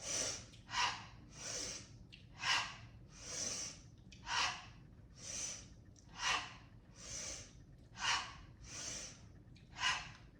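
A person doing qigong breathes out through the mouth again and again, about eleven soft, even, breathy puffs close by at a steady rhythm.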